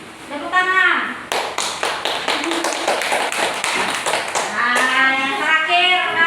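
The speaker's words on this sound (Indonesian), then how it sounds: "tepuk tangan" Applause from a classroom group after a student presentation, a burst of many rapid overlapping claps lasting several seconds, close and fairly loud, with children's voices chattering underneath before and after.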